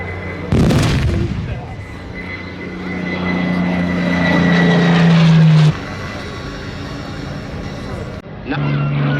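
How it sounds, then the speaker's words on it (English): A P-40 fighter aircraft roaring past at a Tankfest battle display, a loud close engine drone rising and sustained for several seconds with a sharp bang at the start and a loudspeaker voice over it. "The P-40s coming into action."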